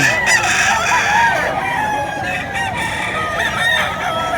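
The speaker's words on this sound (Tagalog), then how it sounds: "Latag ang manok ni Boss Ray, Pangasinan." Roosters crow repeatedly with clucking hens nearby, a noisy, overlapping farmyard chorus up close.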